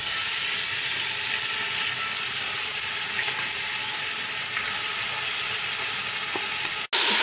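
Seasoned pork ribs brown in hot oil with a steady, loud, broadband sizzle that runs unbroken for about seven seconds, cut off abruptly by a sharp click near the end. No one speaks.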